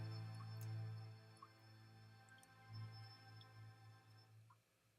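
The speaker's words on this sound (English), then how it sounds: "The dripping is moving faster." Water leaking and dripping onto a floor indoors makes faint, sparse drips at an uneven, quickening pace over a low, steady electrical hum, with no voices.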